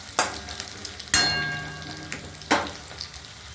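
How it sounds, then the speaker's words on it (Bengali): Capsicum and onion frying in a pan for a pabda fish curry, a steady sizzle broken by several sharp scraping stirs of a spatula, close and fairly loud with no voices. "ক্যাপসিকামগুলোকে আস্তে আস্তে পেঁয়াজের সঙ্গে একটু কষিয়ে নিলাম"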